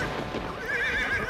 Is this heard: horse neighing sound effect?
yes